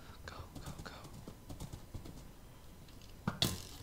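Quick, soft hoofbeats from a horse in a video game patter near the start, with hushed, whispered voices over them and a sharp loud burst near the end.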